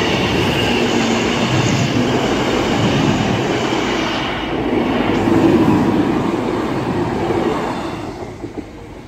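A train passes a level crossing on St Georges Road with a loud, continuous rolling rumble of wheels on rail and faint clatter that swells and then eases off toward the end, with no talking.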